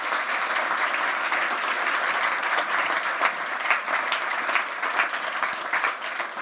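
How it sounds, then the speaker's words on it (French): An audience at an evening event in Geneva applauds steadily and loudly, a dense, even wash of many hands clapping that holds for several seconds without pause. "On peut les applaudir"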